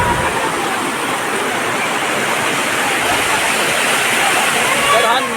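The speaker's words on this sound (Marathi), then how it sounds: "हा बघा धबधबा" Steady roar of a waterfall on the Nagdwar pilgrimage route, a dense, broad rush of falling water close by that holds constant throughout, with no talk heard over it.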